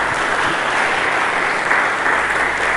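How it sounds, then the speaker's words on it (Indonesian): A church congregation applauds together during an Indonesian sermon, a dense, steady wash of many hands clapping at even loudness for the full stretch, with no voice rising above it. "Mari berikan tepuk tangan bagi Yesus."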